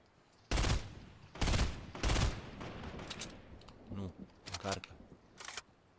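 Gunfire from the video game Fortnite: three loud, sharp bursts of shots close together, followed by a few quieter, fainter shots further off.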